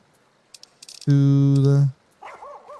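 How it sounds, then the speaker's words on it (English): A single sustained, loud harmonic bark or yelp from a dog in a video game, standing alone for under a second, with scattered soft clicks before it and a voice speaking after. "that's a dog bark."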